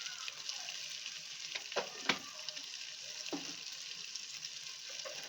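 Biryani masala with salt being stirred together in a pot, a quiet scraping and soft sizzle with a few sharper clinks of the spoon.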